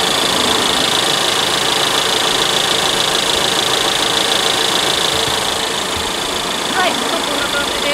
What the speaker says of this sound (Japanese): エンジンがまだかかってる状態なので